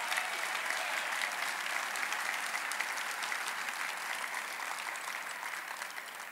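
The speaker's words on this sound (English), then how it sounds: "Please give Brian Rand another big round of applause." Sustained applause from a large political dinner audience, a dense, even roar of clapping that tapers slightly toward the end, with no talk over it.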